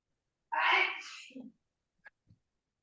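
One loud, breathy sneeze during a community meeting on economic development, followed by a brief quiet sniff and a few faint small noises in an otherwise silent room.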